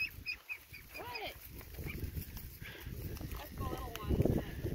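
Muscovy ducks give soft, quiet chirping calls close by on a farm with cows nearby, scattered among shuffling and rustling movement, while people talk over them.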